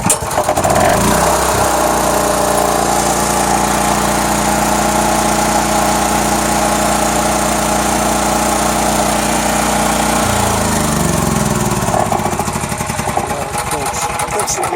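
A Honda EG3500 generator engine catches on the first pull and runs at a loud, steady mechanical drone for about eight seconds, then its pitch and rhythm shift as it falters, with a voice in the background.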